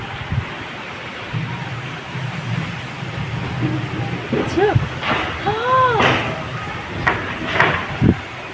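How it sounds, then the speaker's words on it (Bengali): Steady heavy rain hisses continuously while people talk nearby, with a few dull knocks. "কি জোরে বৃষ্টি নেমেছে"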